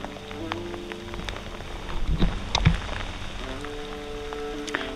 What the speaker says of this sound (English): Look, so much rain.